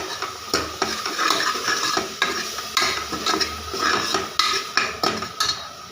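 A spoon scrapes and clanks against a metal pot while ground masala sizzles for mutton kuska. The strokes come in quick repeated knocks over a constant frying hiss, close and clear, with no talking.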